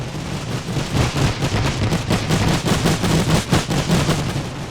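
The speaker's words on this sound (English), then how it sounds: "Now the German machine guns actually open fire." German machine guns open fire in The Great War mod, a World War I video game, pouring out dense, rapid, overlapping bursts that rattle on continuously and loudly, with no talking.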